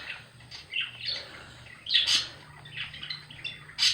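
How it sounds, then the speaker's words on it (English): Pet birds indoors give repeated sharp chirps and short squawks, close and moderately loud, in irregular bursts over a quiet background. "My birds are trying to talk over me again."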